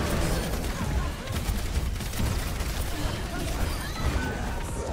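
Rapid video-game gunfire aimed at Mercy, a dense crackling fusillade of shots that keeps going throughout, loud and close, with a voice talking over it.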